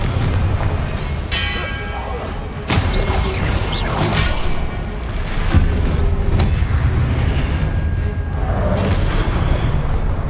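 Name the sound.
Confringo spell explosion from Hogwarts Legacy video game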